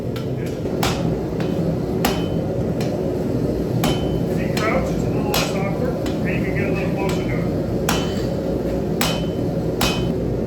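A hammer strikes hot steel on an anvil while an axe is forged, about a dozen sharp, ringing blows at an uneven pace, loud and close, under someone talking and steady workshop background noise.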